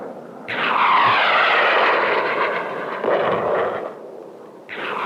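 An F-100 Super Sabre jet fighter roars past, a loud sweeping engine rush that swells and fades over a few seconds, then begins to build again, with no talking.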